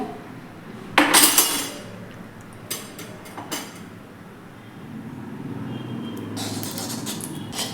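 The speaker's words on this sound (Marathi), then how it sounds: "इकडे मी कढई गरम करायला ठेवलेली आहे त्यामध्ये आता आपण थोडंसं तूप घालून घेऊयात" A spoon scrapes and clinks against a heated kadhai as ghee is added, with a sharp metallic rattle at first, a few lighter taps, and then a soft, rising sizzle toward the end.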